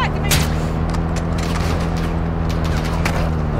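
Heavy gunfire in the video game DMZ, loud and continuous across the whole stretch, with dense overlapping shots and booms.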